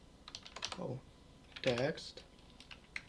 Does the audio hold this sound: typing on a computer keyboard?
yes